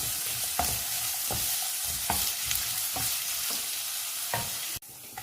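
Chopped ginger fries and sizzles steadily in a pan for Kerala inji curry, with a spoon scraping through it in regular stirring strokes about every second, close and alone.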